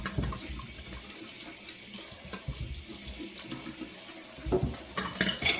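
Water runs steadily from a tap into a pot of red skin potatoes, a continuous rushing splash with faint clinks of cookware, no voices.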